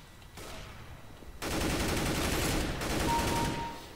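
Rapid automatic gunfire bursts in a first-person shooter, starting faint and then growing loud and dense, with a brief lull before another sustained volley and no talking.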